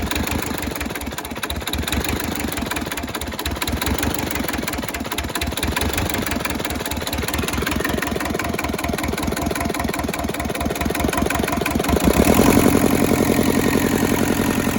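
A rusty Hinomoto tractor's diesel engine runs after an injector repair, chugging in a steady, rapid knocking rhythm up close, growing slightly louder and rougher toward the end.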